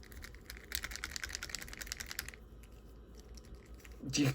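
Plastic clacking and rattling from a wobbly Halo Infinite Spartan Gungnir action figure being handled, a dense run of quick close clicks that stops partway through, leaving quiet handling before a brief bump at the end.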